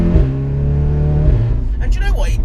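A tuned Audi S3 with a four-cylinder engine, built to 540 bhp with methanol injection, holds a loud steady drone, then drops in pitch with a downshift blip before a brief rising rev, close by.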